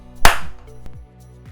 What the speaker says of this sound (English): if you clap your hands loud enough and believe